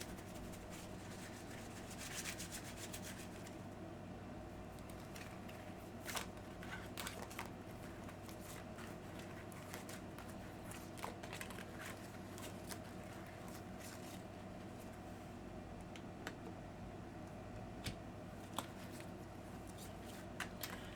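Tarot cards are shuffled by hand for a reading, a steady run of soft papery riffles and light slaps close up, with faint room hum beneath and no talk.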